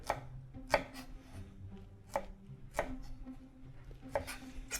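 A chef's knife dicing half an onion on a cutting board, sharp close chops landing in an uneven rhythm with brief pauses between strokes, no voices.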